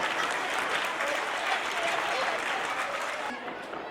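Sustained crowd applause greeting guests at a Gujarati society welcome event, thick and steady clapping from many hands that thins slightly at the very end.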